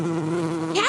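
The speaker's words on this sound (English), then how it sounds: "Bumblebee." Bumblebee buzzing close by in a steady, droning hum that rises in pitch near the end as the insect shifts, heard alone with no voices.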